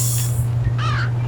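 A single harsh caw from a bird in the video game Limbo sounds over a steady low hum of the game's ambient soundtrack.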